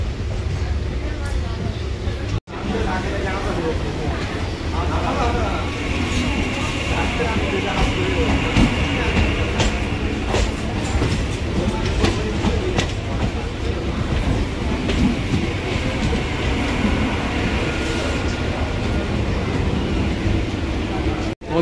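A Kolkata Circular Railway local train pulls out of Bibadibag station, its wheels clattering in a steady rhythmic clickety-clack over a constant loud rumble from inside the coach, with a brief dropout early on.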